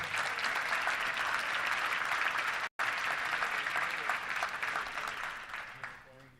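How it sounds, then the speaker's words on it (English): A luncheon crowd at the Little Rock Touchdown Club claps for the assembled guests, dense steady applause that holds strong, breaks for an instant, then resumes and tapers off toward the end. "Let's give all of them a round of applause for being here"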